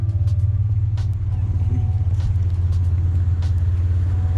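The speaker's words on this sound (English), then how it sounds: "You can hear a Dodge rumbling outside" A Dodge truck engine rumbles outside with a steady, deep low-pitched drone, heard from a short distance with faint background noise and no talk.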